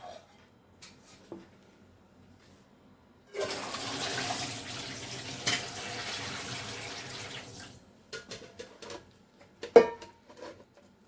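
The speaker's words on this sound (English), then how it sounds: "I'm going to remove the boiled water." Boiled water from a pot of okra pours out in a steady splashing stream for several seconds, close by in a quiet kitchen, followed by a few clinks and knocks of the pot.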